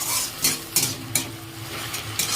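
Jute greens fry with salt, sugar, green chilli and garlic in a pan, a steady close sizzle broken by several sharp scraping stirs of a utensil, no voices.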